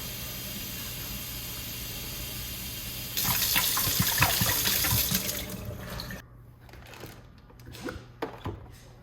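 Running tap water splashes into a plastic container as it is rinsed out at a kitchen sink, a steady loud gush for about three seconds that then cuts back to quieter trickles and drips.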